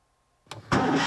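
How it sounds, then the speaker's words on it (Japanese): A Fiat 500's small engine cranks briefly with the choke pulled, then catches and settles into a steady, loud running roar close by. "エンジンかかりました。"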